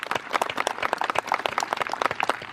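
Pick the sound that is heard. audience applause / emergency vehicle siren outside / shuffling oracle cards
audience applause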